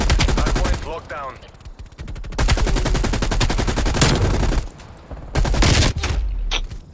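Call of Duty: Cold War multiplayer gunfire, rapid automatic bursts rattling close and loud with short pauses between volleys.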